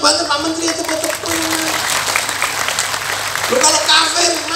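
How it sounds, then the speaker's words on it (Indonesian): Audience applause at a large Islamic religious gathering (pengajian) for a haul commemoration, a steady wash of clapping from many hands lasting throughout, with crowd noise and a voice over a loudspeaker mixed in. "Ya tepuk, sing banter Pak Menteri itu tepuk."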